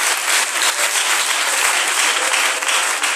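A church congregation breaks into dense, sustained applause, a loud continuous wash of clapping hands filling the room with no speech over it.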